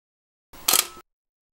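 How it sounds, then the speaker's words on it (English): A single sharp mechanical click-and-snap of a Contax RTS SLR camera shutter, short and close, alone in silence. "the shutter can be fired using the shutter release."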